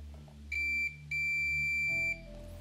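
A multimeter gives two sharp, steady electronic continuity beeps, one short and one longer, while testing the plug and cord of a vacuum cleaner, over a low background hum.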